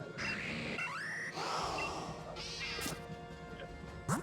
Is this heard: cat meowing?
yes